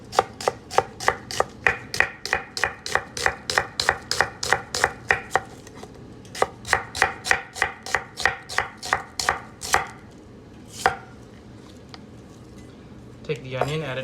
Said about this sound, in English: we're just going to slice it nice and thin across the equator